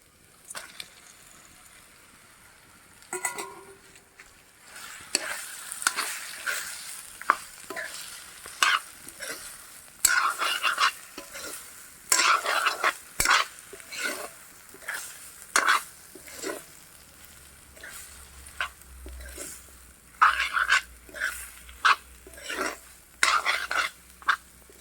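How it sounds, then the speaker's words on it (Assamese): Chicken meat frying in hot oil, a steady sizzle broken by frequent scraping stirs and clinks of a utensil against the pan, close and fairly loud throughout. "এয়া মোৰ তেলবোৰ ইয়াত ফুটিছে এতিয়া মই মাংসখিনি ইয়াত"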